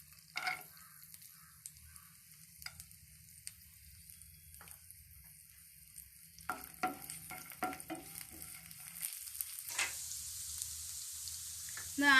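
Finely chopped garlic and a few cashew nuts fry in oil, a soft sizzle under scattered stirring scrapes and clinks that grow busier toward the end, with no talking.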